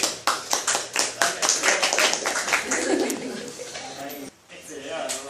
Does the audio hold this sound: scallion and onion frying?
no